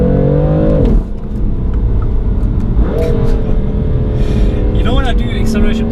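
A BMW F80 M3 makes a full-throttle acceleration pull, its loud engine note climbing steadily and dropping at quick gear shifts, with a person talking over the roar.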